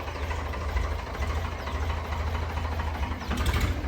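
A tractor engine idles with a steady, low, knocking chug, moderately distant and constant, with no voices over it.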